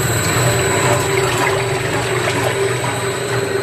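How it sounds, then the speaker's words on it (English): A 100L mixer tank stirs liquid at an adjustable speed, giving a loud, steady motorized whir over a churning liquid wash. The sound carries through the whole stretch without pause or speech. "And we change the speed from here now. And inside mixing."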